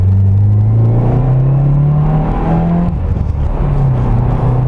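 A 2017 Subaru WRX on the move gives a deep, loud exhaust rumble and burble, the low engine note rising and falling with throttle and shifts, heard close from inside the cabin with no talking.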